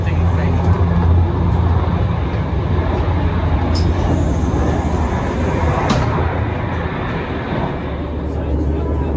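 A continuous low rumble and roar fills the carriage interior of the Alfa Pendular tilting high-speed train running between Lisbon and Porto. It is loud and steady, with occasional faint high squeaks, and someone speaks over it.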